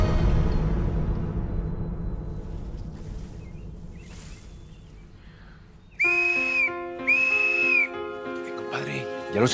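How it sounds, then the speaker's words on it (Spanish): Two sharp, shrill whistle blasts in quick succession, each about a second long, following a stretch of low rumbling background noise. "¿Para qué es el silbato?"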